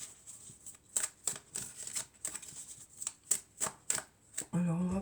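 Tarot cards being shuffled and drawn at a reading table, a series of crisp riffling and slapping bursts in an uneven rhythm, close and clear, ending with a brief low voice.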